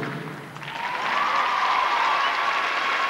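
Audience applause at the 1990 European rhythmic gymnastics championships in Gothenburg, a dense, steady wash of clapping from a large arena crowd that swells after a brief dip, with a commentator's voice faintly over it.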